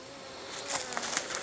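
Honey bees stirring inside a log hive in midwinter, a faint, soft buzz with scattered light patters and brief flicks of wing noise that pick up partway through, no talking.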